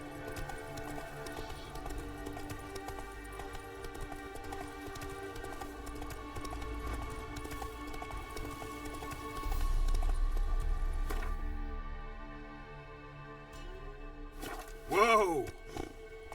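Hooves of a horse clip-clopping at a run in The Witcher 3, a steady layered patter under game music that swells midway, then a sharp chime-like sweep near the end.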